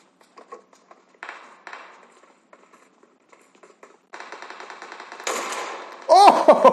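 Shotgun fire in PUBG Mobile played on an ASUS ROG Phone: scattered light taps give way to louder, sharper shots that peak near the end.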